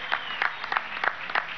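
An audience at a political gathering with workers and a governor claps in a short steady burst of applause, with a dense crowded texture at moderate level throughout.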